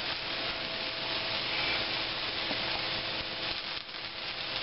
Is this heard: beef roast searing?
yes